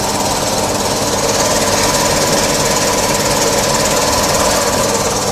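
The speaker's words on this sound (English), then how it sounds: "you're gonna want to let the compressor run anywhere from 3 to 5 minutes" A 50 cubic-per-hour CNG compressor runs steadily and loudly up close, a dense mechanical drone with knocking, engine-like pulsing that holds constant throughout with no voices.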